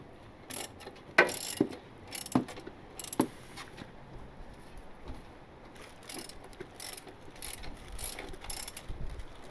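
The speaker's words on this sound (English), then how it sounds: "I'm gonna rotate the crankshaft assembly" A turbo Honda Civic engine's crankshaft assembly is turned by hand on a bench, giving a series of close ratcheting clicks and mechanical clacks in uneven bursts, with short pauses between turns.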